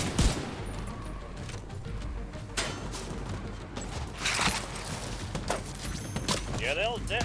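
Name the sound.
enemy gunfire in video game The Division 2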